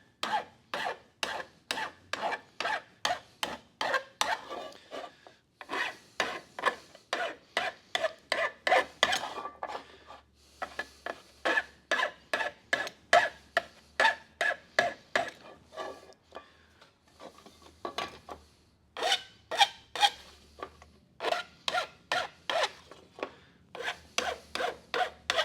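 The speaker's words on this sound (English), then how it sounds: "Anytime you use a file or a hacksaw, always cut on the push." A hand file rasps across sheet metal in long, even push strokes, repeated in steady bursts with short pauses between sets, close and clear with no talking.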